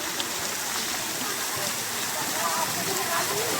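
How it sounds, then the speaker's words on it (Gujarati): Water fountains at Gopi Talav spray steadily, giving a continuous hissing, rain-like patter at moderate distance, with faint voices in the background. "છે ને તો કેવા ફુવારા છે અહીંયા."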